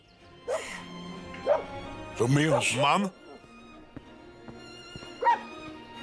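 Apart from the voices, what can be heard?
dogs barking at a ranch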